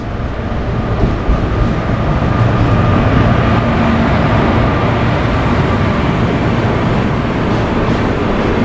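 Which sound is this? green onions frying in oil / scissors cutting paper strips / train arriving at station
train arriving at station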